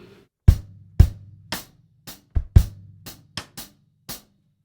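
Drum kit playing a two-bar groove with shuffled sixteenth notes on the bass drum and a backbeat, sharp close hits of kick and snare in an uneven syncopated pattern with quick decays and clear gaps between strokes.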